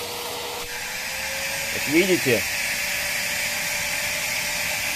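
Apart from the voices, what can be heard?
corded vacuum cleaner running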